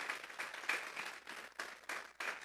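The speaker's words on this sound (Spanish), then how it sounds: "Vamos a darle una ofrenda de palmas a nuestro Maestro, el Señor Jesús." A church congregation claps for Jesus during a Spanish-language sermon, soft, fairly distant applause that comes in several uneven bursts of many hands, with no speech over it.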